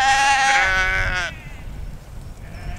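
A sheep bleats loudly and close by in a field for about a second, with a quieter open-air background afterward.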